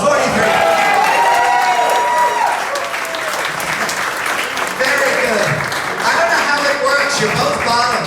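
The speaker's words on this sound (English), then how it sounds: "Give him a round of applause." An audience at a comedy show with drag guests bursts into loud, sustained applause for a couple married 43 years, dense clapping with scattered cheers and voices riding over it throughout.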